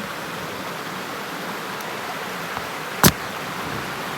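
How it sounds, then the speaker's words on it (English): Waterfalls in the Zec Kipawa wilderness, heard as a steady, broad rushing roar of falling water at moderate distance, constant throughout with one brief sharp knock near the end. "lots of waterfalls"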